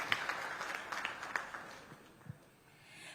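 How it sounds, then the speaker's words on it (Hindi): Studio audience at an Indian TV election forum applauding to welcome a senior Congress Rajya Sabha MP, heard as a faint, scattered burst of clapping that thins out and fades, with a little background chatter. "जरा जोरदार तालियों से स्वागत करें कांग्रेस के राज्यसभा सांसद प्रमोद तिवारी"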